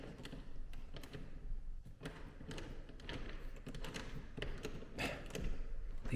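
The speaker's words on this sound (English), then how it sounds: "So I'm going to just open this door" An unfamiliar door in a house is handled and opened: quiet, scattered taps, clicks and soft thuds keep coming for several seconds at low volume, with no talk.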